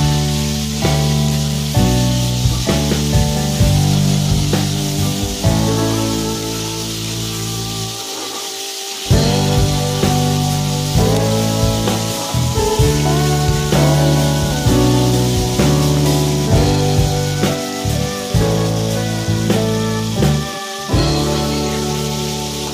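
Tomatoes added to onion, garlic and masala frying in a pan for chicken dak bungalow, giving a steady, loud sizzle and crackle like rain on a surface, close up and continuous.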